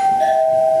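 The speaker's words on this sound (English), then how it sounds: "Instantly, you heard a doorbell ring" A doorbell gives one steady electronic tone that lasts under a second, clear and fairly loud, heard during a Halloween ghost investigation inside a dollhouse museum.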